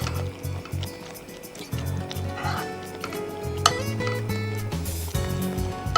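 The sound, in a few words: cooked chicken pieces added into puree gravy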